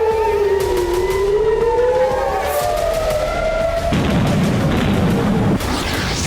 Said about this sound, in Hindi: हिजबुल्लाह के हमलों से इजराइल के कई शहरों में सायरन गूंजने लगे।